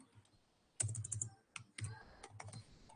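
Keystrokes on a computer keyboard while project data is entered, a burst of quick taps followed by a few separate firm presses, fairly close and alone.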